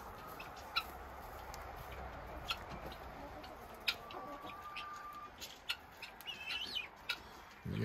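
Guinea fowl and chickens at a coop in Vermont in February call outdoors, scattered clucks and sharp chirps over a steady background, with sporadic clicks and a clearer call near the end.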